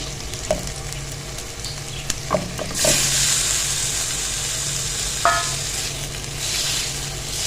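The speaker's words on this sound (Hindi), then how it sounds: "और चिकन को भी हमने इतना भूनना है कि बस इसका कलर चेंज हो जाए।" Chicken frying with ginger garlic paste for malai kabab, a close steady sizzle with occasional clinks of a utensil against the pan and a surge of hissing midway as the pieces are moved.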